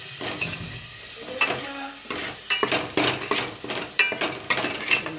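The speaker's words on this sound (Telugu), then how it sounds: "ఆయిల్ వేసిన తర్వాత పచ్చిమిరకాయలు వేస్తున్నాను. ఉల్లిపాయలు వేసి ఉల్లిపాయలు అల్లం" Green chillies, onions and ginger frying in hot oil in a pan, a continuous sizzle with repeated scraping and clinking as a spoon stirs them, close and fairly loud.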